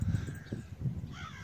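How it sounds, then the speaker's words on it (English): Crows cawing outdoors, several harsh calls in an irregular run, fairly loud and close against open-air background. "looks like the crows are out"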